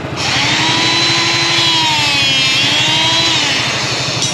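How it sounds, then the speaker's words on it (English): A hydraulic rebar cutter, running low on hydraulic oil, works on rebar being cut into dowels, giving off a loud, steady mechanical whine and hum that holds for several seconds. "hydraulic rebar cutter, and I'm just gonna cut a bunch of little dowels"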